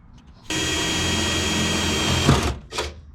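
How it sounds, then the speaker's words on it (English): A power drill with an eighth-inch bit whirs steadily at close range for a couple of seconds while drilling through holes, then stops, followed by a brief second burst of noise. "now I'm just going to kind of drill through all these holes"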